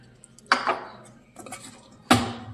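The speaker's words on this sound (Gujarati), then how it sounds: "આ એક વાટકો જેટલી મેં ડાઈસ કટ કરેલી ડુંગળી છે એને ઉમેરી દઈશું" Diced onion added to paneer tikka masala in a pan, heard as three separate clattering scrapes of a spoon against metal, each followed by a short rustle, fairly quiet with a faint background hum.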